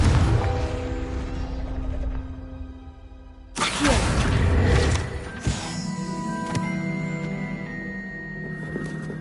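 A Confringo blasting curse goes off in Hogwarts Legacy with a sudden booming burst that then fades over the game's continuing sound and music.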